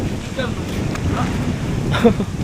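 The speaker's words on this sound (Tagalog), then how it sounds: "Sabagay, lakas ng hangin eh." Strong wind by the sea with boats nearby blows as a steady, rough rush against the microphone, while people talk briefly over it.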